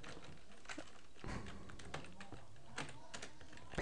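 Quiet, close clicking of a computer keyboard, keys tapped in short irregular bursts with small pauses between them.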